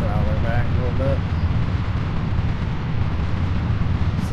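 A rocket lifts off in a space flight game, a loud sustained roaring rumble that stays heavy and even throughout, with brief faint tonal beeps near the start.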